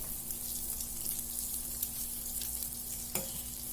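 Egg and onion pepper fry sizzling steadily in a pan, a soft continuous frying hiss with a light scrape or stir near the end, fairly quiet and without voices.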